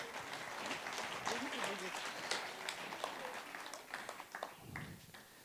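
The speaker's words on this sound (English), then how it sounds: "let's give them a round of applause" Audience applause at a national teaching awards ceremony, a steady wash of clapping from a crowd with voices and cheers mixed in, fairly loud and sustained before tapering near the end.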